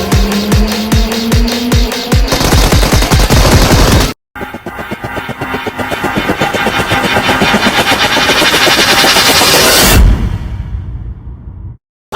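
Loud, sustained machine-gun fire hammers at a car in a driving video game, a rapid rattling burst that stops abruptly, then resumes with engine noise and further shots before cutting off near the end.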